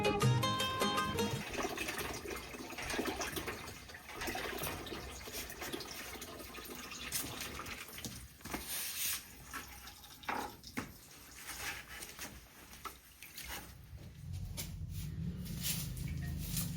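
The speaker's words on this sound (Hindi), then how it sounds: "तो बाहर से ही पानी भरकर ले चलते हैं" Water runs steadily from an outdoor tap into a container in the early morning, a continuous splashing and gurgling stream that shifts in tone as the vessel fills.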